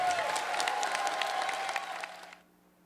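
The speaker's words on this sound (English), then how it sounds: "the loudest round of applause we can summon for those who dared" Audience at a DEF CON award ceremony breaking into applause and cheering, a brief, dense burst of clapping with a few shouts that cuts off sharply after about two seconds.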